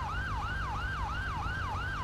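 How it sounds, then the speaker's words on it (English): Police siren in GTA 5, a loud continuous wailing yelp rising and falling about twice a second, close by with engine rumble beneath and no talk. "This guy would just turn off his siren."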